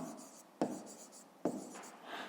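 A pen scratches across paper while a fifth-grade math exercise is worked out, soft continuous scribbling broken by two sharp taps of the pen, close and quiet.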